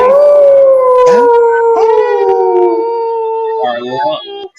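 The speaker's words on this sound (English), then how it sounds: "let's howl it up" A wolf howl sound effect rings out loud and close: one long, sustained howl that slides slowly downward in pitch, joined by a brief second yelp partway through, then breaks into wavering notes before cutting off.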